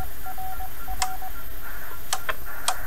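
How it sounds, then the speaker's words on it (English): Short beeping tones of Morse code sound from a 2 meter amateur radio set, thin and moderately loud over steady static hiss, with a few sharp clicks. "that Morse code didn't come from the ham radio. That came from my 2 meter set sitting here."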